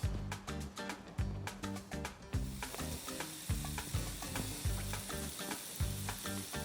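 Flank steak (bavetta) seasoned with salt and pepper sizzles loudly and steadily on a hot grill, a dense close crackle with a rhythmic clanking or scraping underneath and no voices.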